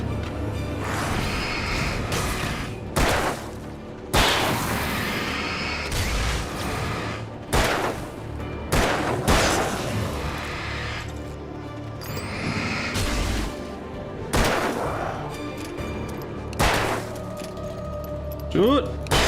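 Gunshots ring out repeatedly in the Alan Wake horror game, loud separate bangs spaced every second or two over a dark, rumbling background, with someone talking between them.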